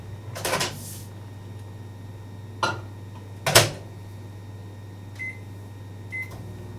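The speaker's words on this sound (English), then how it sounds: "I'm gonna toss my coffee in the microwave real quick" A microwave oven heats a cup of coffee, its steady low hum running throughout, broken by a few clicks and thumps of the door and buttons and two short beeps near the end.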